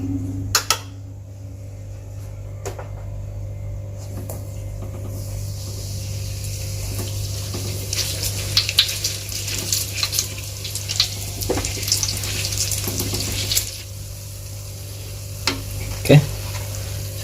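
Donuts frying in hot oil, a steady soft sizzle running throughout with small crackles and pops, plus occasional clinks of a utensil against the pan.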